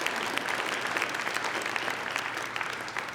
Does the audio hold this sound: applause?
yes